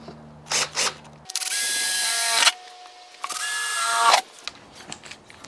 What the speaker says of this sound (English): I have a 5/32 drill bit, which I'll make the first hole